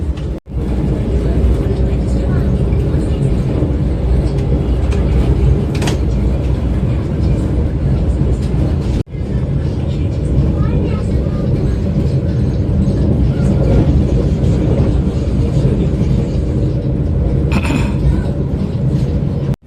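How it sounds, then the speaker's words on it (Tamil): Steady loud rumble of a Vande Bharat express running at speed, heard from inside the train on the Chennai Central to Vijayawada route as it slowly passes through a station, with a continuous rolling roar and a brief break partway. "எல்லா ஸ்டேஷனுமே ஸ்லோவாக தான் ஸ்கிப் ஆகுதுங்க நம்ம வந்தே பாரத்"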